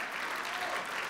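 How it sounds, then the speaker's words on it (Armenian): An audience applauds steadily at a televised national dance contest final, with dense, even clapping throughout. "այս բուռն ծափահարություններով"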